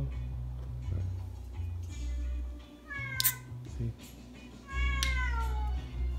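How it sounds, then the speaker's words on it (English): A cat meows a couple of times nearby over a low electrical hum, with short pauses between the cries. "He likes to meow."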